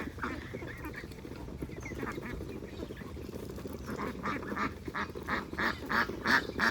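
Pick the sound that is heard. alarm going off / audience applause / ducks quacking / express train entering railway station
ducks quacking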